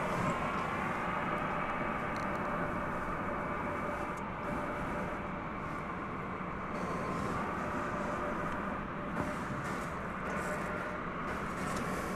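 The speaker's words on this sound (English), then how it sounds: "We've got Spirit Flight 390 coming in from Orlando on an Airbus A321" Spirit Airlines Airbus A321 arriving at DFW airport at night, a steady broadband jet roar with a constant low rumble, moderately distant and unbroken throughout.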